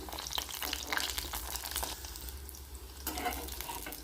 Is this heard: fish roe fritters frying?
yes